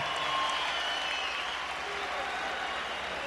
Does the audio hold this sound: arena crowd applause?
yes